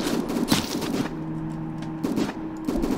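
Video game gunfire, dense rapid bursts of shots loud and close, with a short pause mid-way before the firing resumes.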